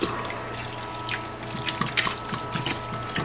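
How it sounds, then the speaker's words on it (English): Fresh filtered water pours and splashes steadily over a tree-fern panel to soak out leftover bleach and peroxide, a close, continuous rushing wash broken by small irregular splatters. "we're just going to go ahead and soak this with very fresh, clean water I just filtered"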